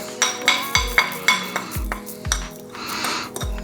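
A pestle pounds coriander seeds in a mortar with regular, sharp clinking strikes about twice a second. Each close, bright knock is followed by a short hollow thud.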